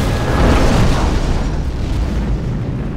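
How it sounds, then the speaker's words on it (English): A loud, heavy particle cannon blast in Command & Conquer Generals roars with a deep booming rumble that rolls on steadily for the full few seconds, a sci-fi energy weapon discharge with no pauses. "Particle cannon at select target."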